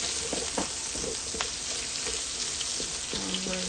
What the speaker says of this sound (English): And we're going to saute that.